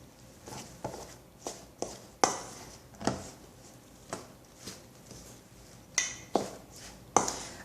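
A spoon mixing zucchini fritter batter in a bowl, with a series of sharp clicks and knocks against the bowl at irregular intervals, close up and alone, with quiet scraping between the hits.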